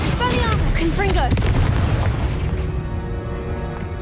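A Confringo blasting spell bursts in Hogwarts Legacy, with a loud, close boom and crackling blast that rings out over the first couple of seconds and then fades into a lingering tail, with a voice calling out beneath it.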